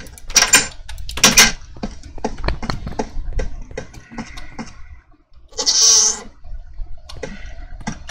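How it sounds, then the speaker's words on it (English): A goat bleats loudly and close by indoors at a school, letting out several sharp, wavering cries in short bursts with brief gaps between them and some shuffling noises. "I don't want this goat in here."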